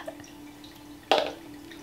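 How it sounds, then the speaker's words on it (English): A single short splashy burst of water as a tarantula enclosure is wetted down, close and brief against a faint steady hum, with no one talking. "Just wetting her enclosure down a little."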